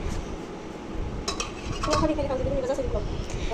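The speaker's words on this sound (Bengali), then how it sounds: "ভালোভাবে এটাকে মিশিয়ে নিব" Matar dal being stirred with a ladle in water in a kadai, scraping and clinking of metal on metal with light splashing, and a voice faintly in the background.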